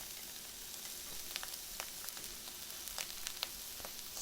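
Crispy vegetarian meat for vegan bulgogi sizzles steadily in a pan while a utensil stirs it, scattered scraping clicks over a constant frying hiss, close and moderately quiet with no talking.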